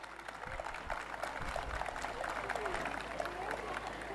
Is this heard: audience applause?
yes